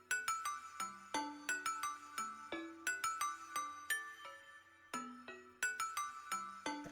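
Loud phone notification chimes ring out in quick bursts of bright, ringing tones, repeating in clusters over several seconds with short gaps between, heard alone without talking.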